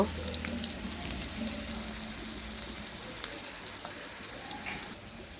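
Onion and garlic frying in oil for mustard hilsa, a dense continuous sizzle with crackling pops held at an even level throughout, no talking.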